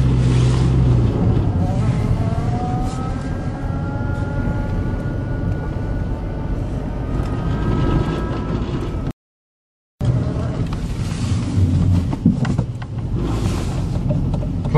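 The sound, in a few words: gas Volkswagen Jetta 2.0 car driving on test drive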